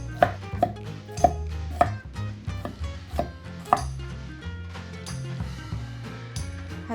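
A knife chops onion, ginger and garlic on a cutting board for rice porridge, with steady, close, crisp blade strikes tapping in an uneven rhythm and faint background hum.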